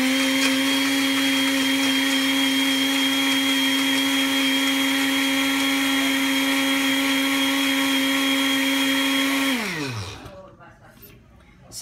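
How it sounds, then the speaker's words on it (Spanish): An electric blender whirs loudly and steadily, mixing a cocktail of rum, coffee, condensed milk and ice, then winds down and stops near the end. "Con licuadora licuamos."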